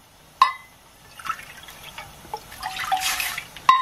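Water poured into flour while making mutton chakkoli, a Kerala rice-dough dumpling dish, splashes and trickles in uneven bursts, close and moderately loud, with a few sharper drips and clinks.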